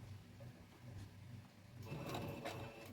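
A home sewing machine stitches a buttonhole on a fabric dog coat, a faint low mechanical whir that swells into a busier, louder stitching run toward the end.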